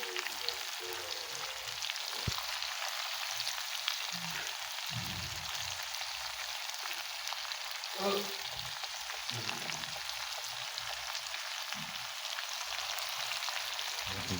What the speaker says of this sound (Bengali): এখন পেঁয়াজ মরিচ দিয়ে দিচ্ছি।